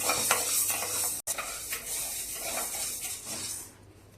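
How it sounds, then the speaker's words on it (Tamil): Green gram (mung beans) being dry-roasted in a pan, with a continuous scraping and rustling stir and light rattling, close and moderately loud, fading at the end. "பச்சை பயிறு நூறு கிராம் இதையும் வறுத்து எடுத்துக்கலாம்"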